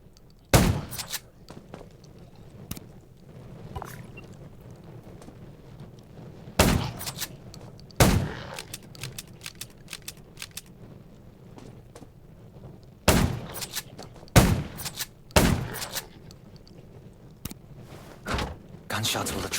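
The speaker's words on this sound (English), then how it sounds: "Gunshots will attract more zombies." Gunshots ring out in a zombie survival video game, Undawn, as several sharp, loud bursts spaced irregularly over a low ambient game background.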